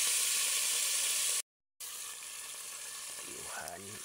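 Squash shoots and fern sauté in a hot pan, a loud continuous sizzle broken by a brief silent gap, with faint stirring scrapes toward the end.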